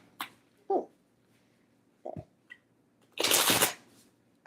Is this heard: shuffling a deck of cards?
yes